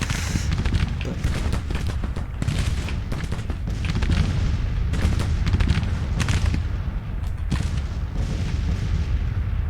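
Artillery bombardment during a counter-march in the center of a Grand Tactician American Civil War battle, with dense, continuous booming and rumbling gunfire rolling throughout, loud and layered without pause.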